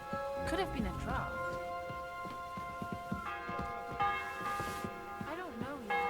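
A church bell rings in Kingdom Come Deliverance 2, sounding as a series of resonant tolls with lingering hum under ongoing game noise and talk.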